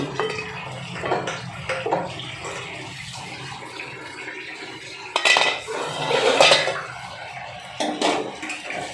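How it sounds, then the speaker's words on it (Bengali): A metal lid lifted off a cooking pot while making lemon katla fish curry: several close clanks and scrapes of metal on metal, with louder knocks toward the end. "এবারে এখানে ঢাকনাটা খুলে নিচ্ছি"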